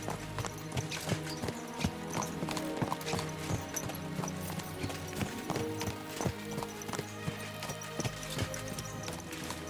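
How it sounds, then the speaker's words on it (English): Horses galloping in Kingdom Come: Deliverance II, hooves pounding in a fast, steady clip-clop rhythm close by, with a horse whinnying briefly amid the running. "Let's really spur these horses on, eh?"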